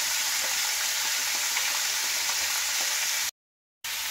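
Turmeric powder and salt being stirred into a frying pan for a pumpkin and potato curry make a bright, steady sizzle with light scraping, which drops to silence for a moment near the end.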